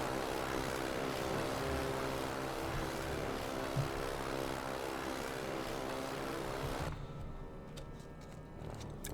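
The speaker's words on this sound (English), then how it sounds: "see what the situation is with the aircraft" Propeller aircraft droning overhead in the Silent Hunter 5 submarine game, a steady loud engine hum with rhythmic low throbbing that drops sharply quieter near the end.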